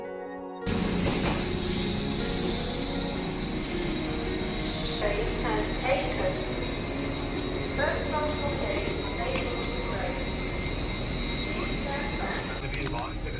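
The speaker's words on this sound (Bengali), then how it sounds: "আমরা ট্রেনে উঠে গেছি এবার আমাদের চার ঘন্টার জার্নি" A passenger train leaves York, with a steady low rumble and whine heard from inside the carriage, along with faint clicks of the track and murmuring voices in the background.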